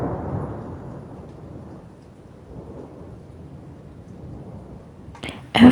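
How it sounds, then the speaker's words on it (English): A rainstorm with thunder gives a steady broadband rush of rain, with a low rumble swelling at the start and a sharper burst near the end. No one speaks. "Thunderstorm, a rainstorm that produces thunder and lightning."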